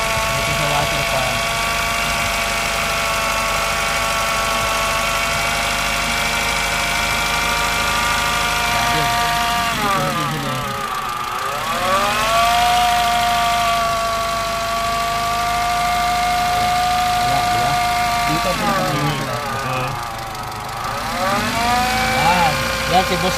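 A Kia Rio engine, suspected of timing chain trouble, idles with a loud, continuous hum close by, its pitch dipping and rising twice as it revs, while voices murmur underneath.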